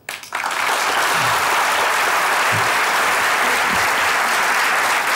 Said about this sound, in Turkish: sadece alkışlayın.